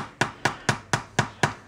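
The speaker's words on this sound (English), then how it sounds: "let me grab my plastic hammer. I don't really want to smack on it too hard." Plastic hammer tapping a Datsun truck kingpin: seven evenly spaced, crisp knocks in a steady rhythm, close and fairly quiet, with no talking.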